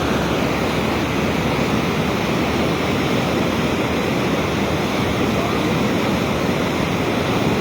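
Floodwater rushes through flooded houses near a motorway cut open to drain it, giving a steady, dense roar of flowing water with no pauses or voices.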